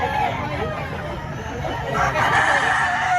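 Rooster crowing amid a busy chicken market in Batangas, a drawn-out crow close by over background crowd chatter and someone talking.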